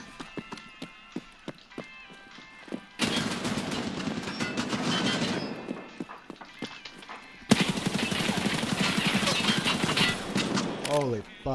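Gunfire from shooting in a video game starts as scattered single shots, then breaks into two long stretches of dense rapid automatic fire, loud and close, with a voice heard briefly near the end.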